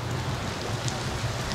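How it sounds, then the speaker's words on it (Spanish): Heavy rain pours steadily outdoors in a small candle-lit town, a dense continuous hiss of drops hitting surfaces with no pauses and no voices. "se largó a llover, muchachos, y vea cómo está la cosa"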